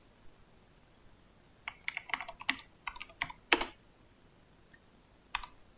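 Quick bursts of clicking keystrokes on a computer keyboard as a command is typed, close and fairly quiet, arriving in irregular clusters with short pauses and no talk.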